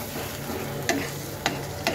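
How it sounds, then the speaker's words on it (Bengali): Tengra fish cooking with taro and a splash of water in a pan, stirred with soft scraping and a low sizzle, with three sharper clinks of the utensil against the pan. "এখন আমি এটাকে নেড়ে দেব সুন্দর করে।"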